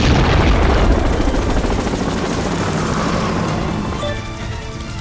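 A cartoon helicopter starts up and flies off, its loud, dense rotor roar beating steadily and then slowly fading as it pulls away, with no voices.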